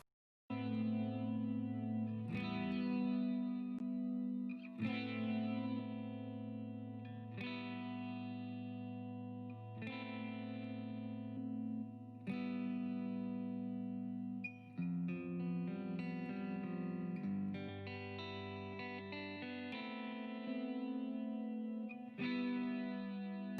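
Electric guitar through a Positive Grid Spark modelling amp playing a sequence of sustained chords with chorus and echo effects, a steady, processed tone changing every few seconds.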